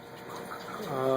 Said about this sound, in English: we're making quite a bit of waves up there